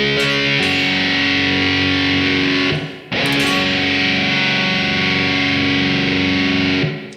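Loud, fuzzy distorted electric guitar barre chords, one sustained strum followed by a brief break and another long ringing chord.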